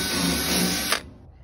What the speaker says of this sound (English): we're gonna drill two holes on each of the outside uprights